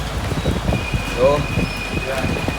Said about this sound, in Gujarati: વરસાદ અત્યારે ફૂલ ચાલુ થઈ ગયો છે